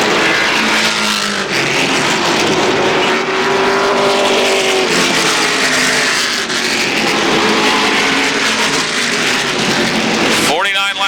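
Stock cars racing into turns 3 and 4 at Motordrome Speedway, a loud continuous engine roar with revving and passing sweeps, under steady commentary.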